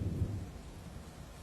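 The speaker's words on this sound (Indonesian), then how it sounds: "Mana lagi hujan deras lagi di luar." Heavy rain and a low rumble of thunder fill the night outside, a dense, steady wash with a deep booming undertone and no voices.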